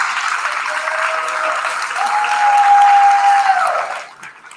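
A school awards-day audience applauds Mr. Mark with steady, dense clapping that swells in the middle and fades out near the end, with a thin sustained tone running beneath.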